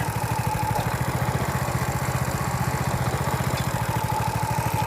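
A bike-engine mini tractor (saneda) idles slowly in a farm field, its small engine throbbing in a steady, even low putter that runs alone and fairly loud from start to end.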